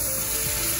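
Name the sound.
chicken broth poured into a sizzling pan for mole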